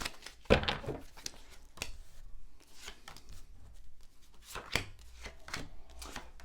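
Tarot cards from a Tower of Prague deck being shuffled by hand: a run of quick papery riffles and soft slaps, close and fairly quiet, with no talking.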